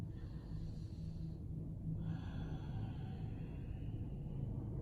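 Slow, steady breathing during a seated yoga pose, faint and close over a low constant room rumble, with a soft exhale-like swell midway and no talking.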